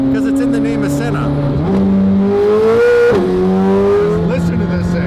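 A McLaren Senna sports car engine revs hard, its tone sliding up in pitch through a couple of rising surges and dropping between them, loud and close with strong harmonic whine.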